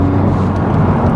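A Honda Civic Type R FL5 engine and exhaust give a brief, steady, low rumbling drone at close range, with no voices.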